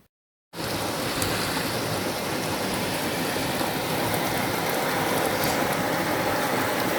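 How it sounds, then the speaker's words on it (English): Steady, dense rain pours down on outdoor surfaces after a brief silent moment at the start, a continuous close hiss with faint rumbles beneath and no voices. "Raining. It's finally raining."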